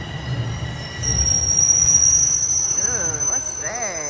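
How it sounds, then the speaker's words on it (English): Subway train pulling into a snowy platform in Canada, with a loud sustained high-pitched wheel squeal over rumbling rails, building as it arrives and then sliding in pitch near the end. "It's my train."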